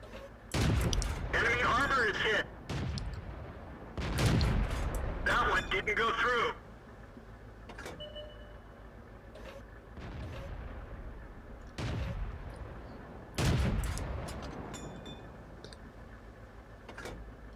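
Tank cannons firing in the video game World of Tanks: several loud booming shots in uneven bursts with rumbling tails, separated by quieter engine and battle noise.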